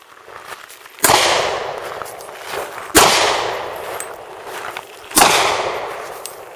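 Three sharp handgun shots at an outdoor range, loud and close, spaced about two seconds apart, each followed by a long fading echo, with no talking.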